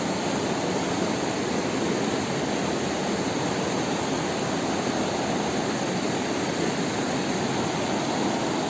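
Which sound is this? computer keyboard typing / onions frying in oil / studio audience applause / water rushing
water rushing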